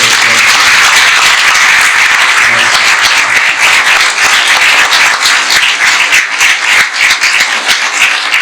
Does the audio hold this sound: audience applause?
yes